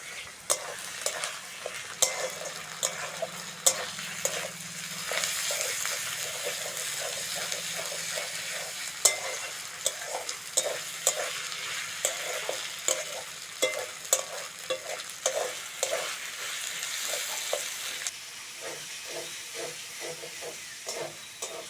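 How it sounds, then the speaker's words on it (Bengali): Ginger-garlic paste, added after onions, sizzles loudly in a pan for a chicken curry while a utensil scrapes and stirs in repeated strokes, a continuous close frying hiss throughout with no talk. "এবার আদা রসুন বাটাটা দিয়ে দেবো।"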